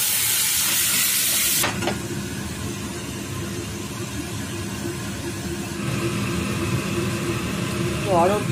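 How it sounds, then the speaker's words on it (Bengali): Arhar dal is tempered with cumin, bay leaf and dried chilli, giving a loud hissing sizzle that flares up at the start and then carries on more quietly. Someone talks over it. "অড়হর ডালটা আমি সাঁতলাচ্ছি জিরে, তেজপাতা আর শুকনো লঙ্কা ফোড়ন দিয়ে।"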